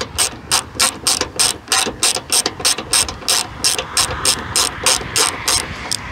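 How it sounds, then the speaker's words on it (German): A ratchet loosens a paint-stuck nut on the hood lift gas strut bracket of an MG5 Electric car, giving a close, loud, rhythmic series of clicking pawl strokes in regular bursts, with no speech. "Ich nehme wieder die Radsche."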